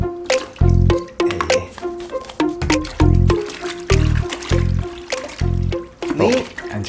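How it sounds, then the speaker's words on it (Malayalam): A T-shirt is dunked and squeezed in water, giving a series of wet squelching, dripping bursts in an uneven rhythm, fairly close and loud. "ഇതിങ്ങനെ വെള്ളത്തിലേക്ക് മുക്കി വെക്കാം."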